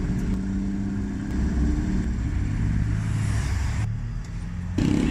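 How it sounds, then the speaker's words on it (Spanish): Cars from a car club pull up beside a street taco stand in Mexico, their engines giving a continuous low rumble with brief revs, close and loud. "Ya llegó otra parte más de club de coches."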